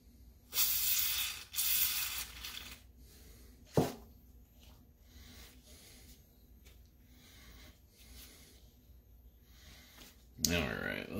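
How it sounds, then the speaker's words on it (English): Two bursts of lanolin lubricant spray hiss into a Dyson Ball vacuum, each about a second long, followed by quieter handling clicks and a faint rub, with another short hiss near the end. "instead I will use some lanolin spray"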